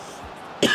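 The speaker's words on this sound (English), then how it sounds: "really awkward time to cough" A single short cough bursts out abruptly near the end after a quiet stretch, close to the mic, from a streamer playing FIFA.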